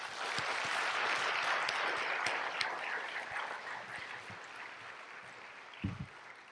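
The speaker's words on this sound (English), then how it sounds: "if we give a round of applause to those groups that really support us" A conference audience gives a round of applause for supporting groups at a welcome session, a sustained even patter of many hands that slowly thins out, with a few louder thumps near the end.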